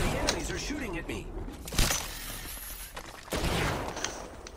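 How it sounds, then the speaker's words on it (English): Enemy gunfire in Apex Legends, a few sharp shots and bursts cracking over dense game noise while a player talks throughout. "The enemies are shooting at me."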